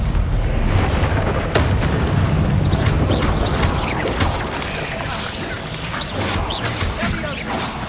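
A Confringo fire spell blast in Hogwarts Legacy gives a dense, loud rumbling crash that fills the whole clip. It fades gradually, with scattered impacts and crackles over game noise.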